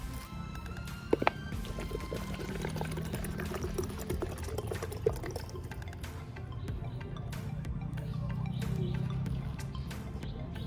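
Young coconut water pouring from two coconuts into a pot for a Thai sago, sweet corn and taro dessert, a steady liquid splash building louder toward the end, alone without talk.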